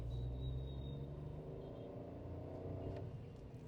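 A Skoda Kushaq Ambition SUV with a 1.0 TSI turbo engine accelerating, heard as a steady low engine rumble with a rising drone from inside the car, with no voices.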